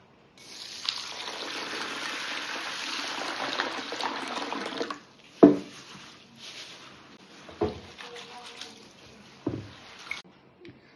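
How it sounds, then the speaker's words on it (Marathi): Moong dal lentils being washed under a running tap, a steady rush of water filling a vessel for several seconds, then sloshing, rinsing splashes and a few knocks. "आपल्याला ह्याला स्वच्छ चांगलं 2-3 पाण्याने धुवायचं"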